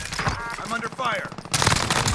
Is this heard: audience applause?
no